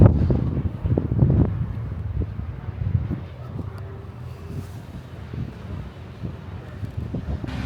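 Blustery outdoor wind buffeting the microphone, strongest in the first second or so and then settling into a lower steady rumble with occasional gusts.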